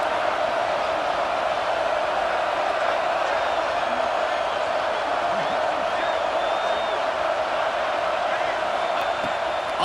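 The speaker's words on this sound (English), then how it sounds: "how nice is it to have the home crowd going absolutely bananas?" A home crowd roars steadily at the Ohio State versus Michigan college football stadium, a dense, continuous wall of cheering and yelling that stays loud and unbroken throughout without clear individual voices.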